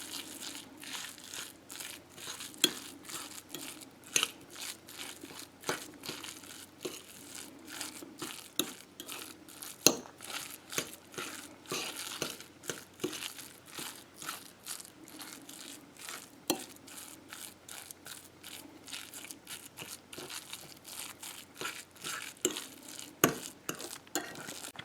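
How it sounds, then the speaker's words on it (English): Canned salmon patty mixture being mixed with mustard, giving a long run of soft squelching and crinkly stirring sounds with frequent small taps and thumps at close range, and no talking. "now I have my patties all mixed up"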